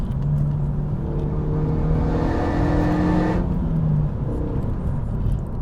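A Renault Megane 3 RS Cup engine drones loud and close from inside the car, a steady whooshing, vacuum-like hum with shifting tones as the revs rise and ease.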